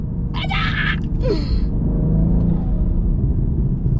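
BMW M240i engine while driving on open roads, a steady low rumble of engine and intake with rising revs, close and continuous, with a couple of brief higher-pitched bursts early on.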